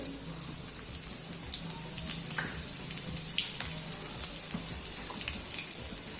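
Quiet, continuous sizzling with scattered crackles and pops, like garlic frying in hot oil, heard close and alone.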